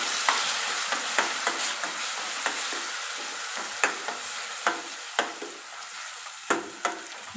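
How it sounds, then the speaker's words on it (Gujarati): Onion paste frying in a pan, a steady close sizzle broken by repeated sharp scrapes and taps of a stirring spoon at irregular intervals, with no voices. "ડુંગળીની પેસ્ટ ગોલ્ડન બ્રાઉન કલરની થાય ત્યાં સુધી એને થવા દઈશું"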